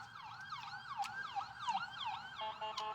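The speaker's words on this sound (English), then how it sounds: "That's an ambulance." An ambulance siren wails in a steady repeating up-and-down cycle, moderately distant and alone, with a brief sharper sweep near the end.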